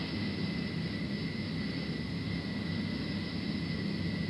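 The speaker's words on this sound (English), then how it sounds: "we missed the ambiance of the jet noise" A steady jet aircraft noise effect plays as a presentation backdrop: a constant, fairly faint broadband roar with a high whine on top and no voices.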